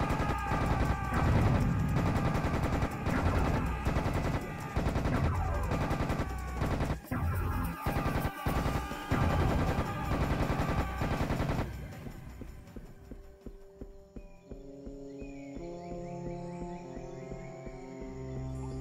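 Rapid automatic rifle fire in Serious Sam: Bright Island, dense continuous bursts over game music and effects for most of the stretch, then cutting off to quieter ambient tones and scattered effects.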